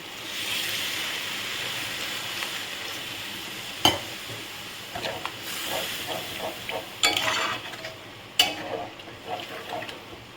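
A little water goes into a pan of green banana curry, giving a steady close sizzle with a few sharp clinks and stirring scrapes toward the end.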